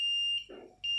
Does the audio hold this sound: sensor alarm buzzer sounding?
yes